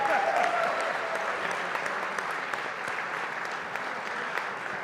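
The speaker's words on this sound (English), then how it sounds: "How about another round of applause for our teams here?" An audience at a national SIM competition applauds the competing teams, steady crowd clapping at moderate loudness that carries on evenly throughout with occasional sharper individual claps.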